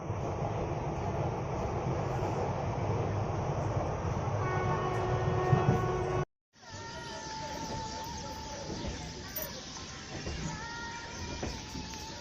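A train at a railway station gives a loud, steady rumble with faint squealing tones, cut by a brief silent break partway through before the rumble returns.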